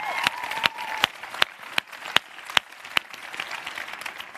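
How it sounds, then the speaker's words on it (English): A modest round of applause at a corporate leadership talk, a steady patter of claps with several sharper individual claps standing out at a regular pace, moderately close. "I think a big applause to her"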